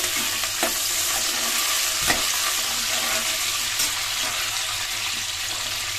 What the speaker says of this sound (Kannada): ಈಗ ಇದೊಂದು ಸ್ವಲ್ಪ ಫ್ರೈ ಆಗಲಿ